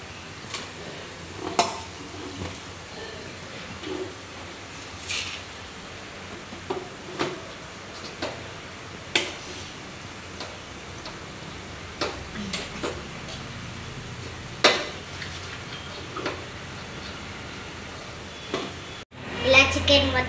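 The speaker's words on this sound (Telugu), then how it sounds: "పసుపు వాసన మంచిగా వేగిన తర్వాత మనం చికెన్ వేసుకుందాం." Chicken is stirred through fried turmeric in a pan, giving scattered scraping and clinking knocks at irregular intervals over a soft continuous background.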